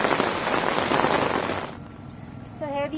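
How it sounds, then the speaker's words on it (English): Heavy monsoon rain pours down in a Kannur village in Kerala during flooding, a loud, dense hiss of drops on surfaces that eases slightly toward the end, where a faint voice-like tone briefly rises. "So it's raining quite heavily."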